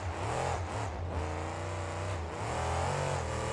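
A monster truck engine revs loud and close during a freestyle run, a steady roaring drone with throttle swells and dips, alone without talk.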